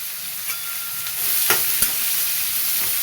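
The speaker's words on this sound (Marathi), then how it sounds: "जिरे टाकून घेतले कांदा टाकून घेते" Cumin seeds and chopped onion frying in hot oil, a continuous crackling sizzle up close, with a couple of brief spatula knocks against the pan.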